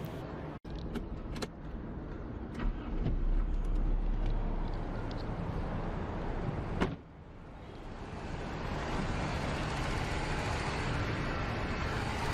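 Toyota Corolla engine running after a radiator flush and coolant refill, a steady idling hum with a few clicks and knocks early on, then a brief dip before the drone settles and continues evenly.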